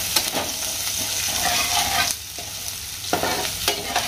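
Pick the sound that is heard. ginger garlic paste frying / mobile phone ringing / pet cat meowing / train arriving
ginger garlic paste frying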